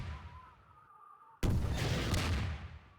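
A grenade explodes in Garry's Mod: a faint mechanical hum, then one sudden loud booming blast that rolls for about a second before tapering off.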